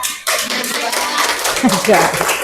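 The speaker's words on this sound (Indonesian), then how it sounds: "tepuk tangan buat" A junior high classroom claps for a student, a short burst of hand clapping that starts abruptly after a brief pause, with a voice speaking under the noise.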